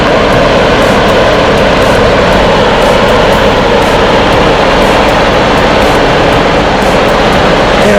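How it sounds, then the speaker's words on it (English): A loud, constant engine roar with a dense mechanical whir runs unbroken throughout, a John Deere 5055E tractor at full throttle driving a 10-foot rotary cutter nearby. "Phillips is turning up the throttle for the first time on his RCT&M cutter."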